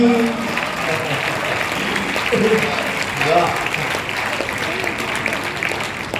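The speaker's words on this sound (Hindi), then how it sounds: "मुझे बताना तालियों से अगर समझ में आ जाए तो।" Steady audience applause at a poetry gathering (kavi sammelan) fills the clip, a dense wash of clapping with some voices mixed in throughout.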